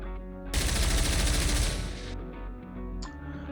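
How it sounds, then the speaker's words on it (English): A burst of rapid automatic gunfire rings out from across a battlefield, a dense rattling volley lasting under two seconds over a steady low rumble, then fading into background noise. "As if sensing their presence has been revealed, gunfire rings down from the other side."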